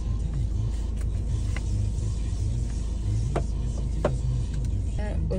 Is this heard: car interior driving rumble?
yes